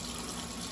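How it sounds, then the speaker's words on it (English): Tap water runs steadily into a kitchen sink while hands are washed during cooking, a brief continuous broadband rush with no talk. "Wash me hands."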